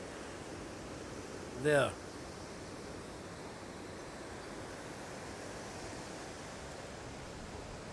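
Ocean waves wash onto a beach in Spain in a steady, broadband roar of surf that runs the whole time, with a brief voice speaking once early on.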